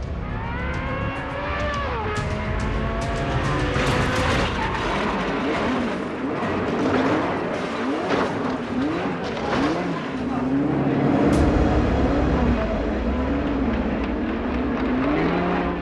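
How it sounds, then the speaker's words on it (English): Ferrari Formula One car in qualifying at the Belgian Grand Prix, 1982, a loud high engine whine rising and falling through gear changes, mixed with crowd and broadcast noise and a voice talking over it. "Villeneuve drives the final qualifying session at the Belgian Grand Prix"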